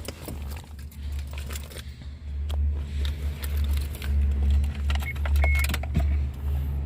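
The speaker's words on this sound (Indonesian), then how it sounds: "Kita nyalakan mesinnya teman-teman." A 2004 Suzuki Every 1.3 engine cranks and catches, then settles into a steady low idle rumble heard from inside the cabin, with small clicks and rattles over it and no talking.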